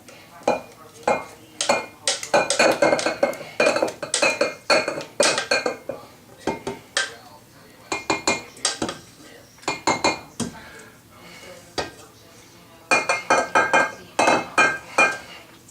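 Dishes clinking in a home kitchen while a bowl is dried after making pastry cream, close irregular clatter of bowl, utensils and pans in quick bursts, with brief spoken remarks in between.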